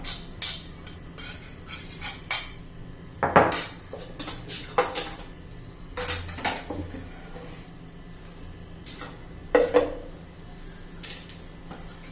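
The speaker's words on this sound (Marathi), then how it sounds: "आता एका भांड्यामध्ये काढून घेऊया आपण." Green chilli and papad thecha scraped from a mortar into a bowl, a series of sparse clinks, knocks and scrapes of utensils against vessels, close and intermittent in a quiet kitchen.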